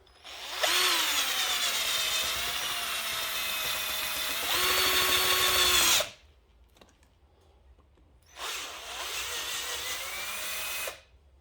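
A power drill bores into an oak bonsai trunk, a whining motor with a shifting pitch that runs for several seconds, pauses, then whirs again in a second burst, close and alone.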